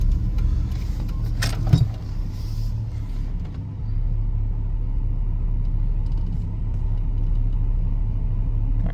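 A 1995 Chevy K1500 pickup with a 5.7 TBI engine idles steadily after a stop at a light, a low, even rumble close by with a brief clunk early on, no voices.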